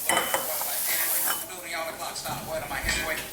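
Eggs cooking in a pan at home make a steady sizzle with clinks of a utensil against cookware and bursts of stirring, close by, with a voice briefly talking over it.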